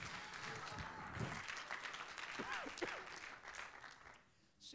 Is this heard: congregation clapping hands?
yes